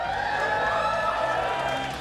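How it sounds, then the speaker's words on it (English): Full-house theatre audience at a drag show cheering and whooping, a loud, sustained roar of many voices that holds steady and tapers slightly at the end. "That sounds like a crowd at the Ed Touch."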